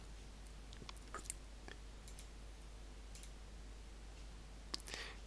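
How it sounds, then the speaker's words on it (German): Computer mouse clicks while working in Microsoft PowerPoint 2011 on a Mac, a few faint sharp isolated clicks spaced irregularly over a quiet room hum. "Ich klicke auf Abschnitt"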